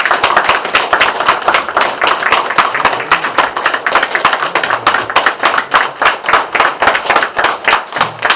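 An audience gives a novelist a burst of loud, close applause that starts as a dense wash of clapping and settles into a rhythmic, unified clap-along toward the end.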